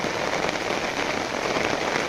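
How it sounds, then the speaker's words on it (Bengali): A downpour of heavy rain drums steadily, a thick unbroken wash of noise at close range with no other sounds over it. "এত বৃষ্টি নামছে, প্রচণ্ড বৃষ্টি"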